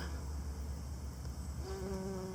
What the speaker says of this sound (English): A bumblebee attempting to work a St. John's wort I bought.